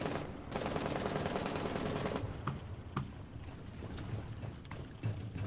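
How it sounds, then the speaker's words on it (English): Rapid bursts of gunfire in the video game Rainbow Six Siege rattle continuously, then thin out into scattered individual shots, with no talking. "there's a lot of gunfire"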